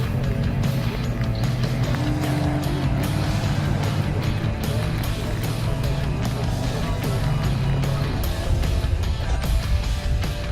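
Australian Supertruck Championship racing truck with a full manual gearbox, its engine roaring continuously and loudly through a race at the Giti Supertruck Nationals 2017, a dense rumbling drone with no talk over it.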